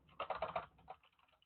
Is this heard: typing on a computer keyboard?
yes